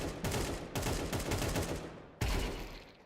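AK rifle gunfire in a video game played on an ASUS TUF T500 desktop PC, a dense continuous rattle of automatic shots with a fresh loud burst near the end, fairly quiet overall.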